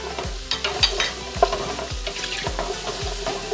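Garlic, zucchini and red and yellow peppers sauté in a pan, a steady sizzle broken by repeated scraping stirs at a regular rhythm, close and fairly loud with no talking.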